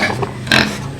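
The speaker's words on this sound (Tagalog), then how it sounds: "Limang baboy for sale." Pigs grunting and oinking in a pen of five mestizo pigs kept for sale, a steady low chorus with one louder squeal-like burst near the middle, no talking.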